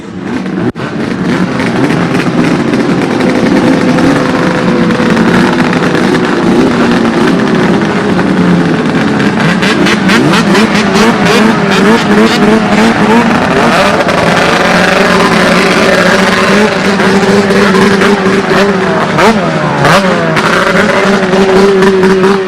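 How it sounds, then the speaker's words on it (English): A field of snowmobile engines fires up and revs on the start line before a snocross championship race in Duluth, a loud, sustained multi-engine roar with overlapping rising and falling revs throughout. "Gentlemen, start your engines!"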